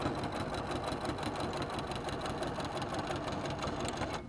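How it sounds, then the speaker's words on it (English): Sewing machine stitching over the binding on a Halloween vest, a steady close motor hum with rapid continuous needle chatter running the whole time, no talking. "I am going to sew over my binding that I attached to the front"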